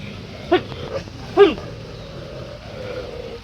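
A dog gives two short yelping barks close by on a farm as rain begins, followed by quieter whimpers against a low background rumble.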